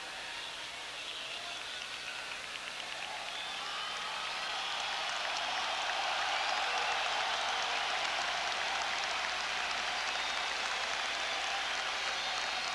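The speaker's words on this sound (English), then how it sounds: "The applause you can hear is for Robert Sara" Stadium crowd applauding the Austrian captain Robert Sara during an Austria versus Argentina football match, a broad, sustained wash of clapping that swells and holds for several seconds.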